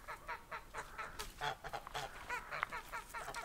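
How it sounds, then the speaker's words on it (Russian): Duck quacking and honking in a rapid series of nasal calls at a Russian countryside village, close and fairly faint, with no talk over it. "Сейчас вон Алиса пошла утку атаковать."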